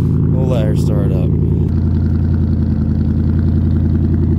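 A car engine starts up and settles into a loud, steady, close idle with an even low hum, after a voice speaks briefly at the start.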